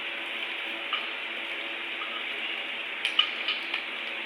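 Ginger garlic paste frying with chicken in a pot, giving a steady soft sizzle throughout with a few faint clinks and stirring scrapes near the end.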